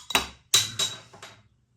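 A Dutch craft beer bottle, Bird Brewery JoeHoe LenteBier, is handled and opened with a few sharp clinks and taps of metal on glass, close and brief, followed by quiet.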